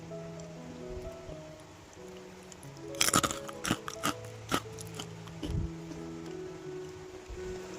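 Crunchy coated kacang disco peanuts, spicy-sweet and savory, bitten and chewed up close: a cluster of sharp, brittle crunches in the middle, then a few lighter chews against quiet background hiss.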